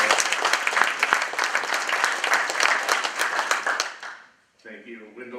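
A room full of people applauds Wendell of Canyon Rock at a general membership meeting, several seconds of brisk clapping that dies away, followed by a voice speaking.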